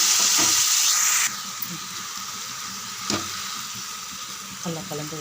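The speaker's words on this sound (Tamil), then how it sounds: "நல்லா கலந்து விடுங்க. தக்காளி நல்லா மசியணும்." Halved half-kilo of tomatoes fry in hot oil with a loud, dense sizzle that eases after about a second, while a spoon stirs and scrapes through the pan in occasional clattering strokes.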